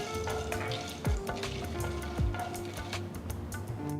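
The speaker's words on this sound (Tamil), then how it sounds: "ஒரு அகலமான கடாயில் மூணு டேபிள் ஸ்பூன் எண்ணெயை ஊற்றி இதில் அரை டீஸ்பூன் கடுகு ஒரு டீஸ்பூன் உளுத்தம்பருப்பு ஒரு டீஸ்பூன் கடலைப்பருப்பு சேர்த்து வறுத்துட்டு" Mustard seeds, urad dal and chana dal frying in oil in a wide kadai: a soft, steady sizzle with scattered crackles and pops and a couple of stirring scrapes, close and quiet.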